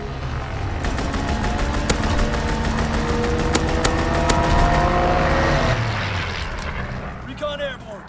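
Aircraft strafing run with bombs in Call of Duty: WWII, a sustained roar of engines and dense rapid gunfire with rumbling explosions that fades near the end.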